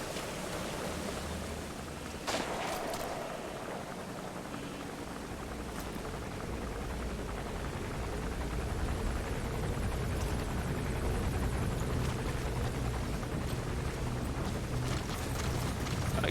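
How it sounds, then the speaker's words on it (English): A helicopter in the video game Metal Gear Solid V gives off a steady, loud whirring rumble that builds slightly and stays continuous throughout, with no talking. "Alright, it's the chopper."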